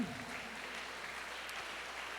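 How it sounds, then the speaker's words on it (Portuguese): A congregation applauds during an evening church celebration service, a steady, even wash of clapping from many hands that holds at a fairly quiet level throughout, with no voices standing out. "Aplauda Jesus bem forte"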